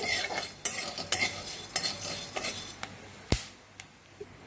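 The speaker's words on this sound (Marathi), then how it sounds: "अशा प्रकारे हे मिरे पण आपले भाजून झालेले आहे। याला पण 1 मिनिट आपल्याला भाजून घ्यायचं आहे।" Black peppercorns dry-roasting in a pan, stirred with a metal utensil that scrapes and clinks in sharp, irregular strokes over a faint background sizzle, close and without talk.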